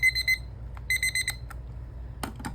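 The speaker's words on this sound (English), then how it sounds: "there goes my timer." A kitchen timer alarm goes off nearby, sounding bursts of rapid high-pitched electronic beeps in two quick groups, followed by a few light clicks over a low background hum.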